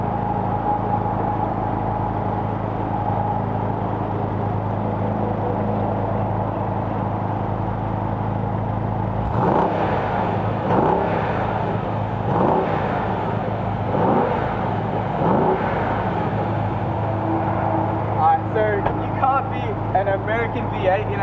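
V8 car engine with no exhaust system idles with a steady low drone, then gets revved several times in quick bursts, each rise and fall loud and close, with someone speaking faintly at times.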